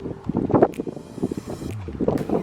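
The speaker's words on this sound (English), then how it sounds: "Came up to the top to try to block some of the wind." Wind gusts across the top of a snowy residential driveway at a new-construction home, buffeting the microphone in uneven, rumbling bursts that rise and fall over a couple of seconds.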